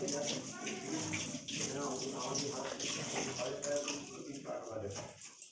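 Rice for payesh is washed in water, with running and sloshing water close by under a speaking voice.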